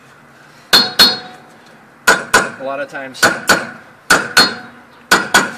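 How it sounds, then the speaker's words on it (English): A hammer strikes a rusted, stuck rear wheel on a Toyota Corolla with a drum brake, in paired sharp metallic blows repeated five times, loud and close, with a brief rattle between strikes and a short spoken remark. "Bigger hammer."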